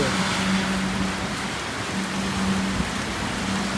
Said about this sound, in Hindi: मूसलाधार बारिश होगा लग रही